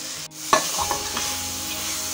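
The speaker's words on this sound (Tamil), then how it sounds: "பன்னீரோடு சேர்த்து பன்னீரில் இந்த மசாலாலாம் இறங்குற வரைக்கும் ஒரு 2 மினிட்ஸ் நல்லா கிளறி விடுங்க" Paneer is stirred with masala in a hot pan, giving a soft sizzle with a few clinks and scrapes of the spoon, close and fairly quiet.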